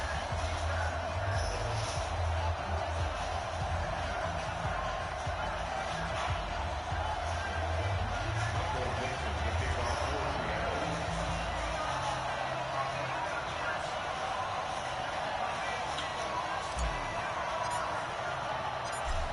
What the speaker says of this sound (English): This crowd is ready as their guys get set to match up between the Seattle Seahawks and the Indianapolis Colts.